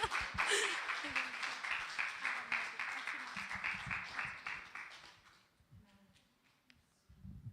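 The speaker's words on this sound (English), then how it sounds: "Everyone give a round of applause." A youth church service congregation breaks into steady applause with a few whoops, clapping densely for about five seconds before fading out, while a voice speaks over it and continues once the clapping stops.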